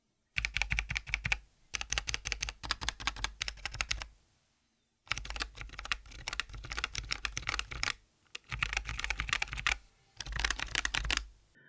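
Fast typing on a tiny Miuni 32 mechanical keyboard fitted with Outemu Ice switches, close and crisp clacking in several bursts separated by short silent pauses.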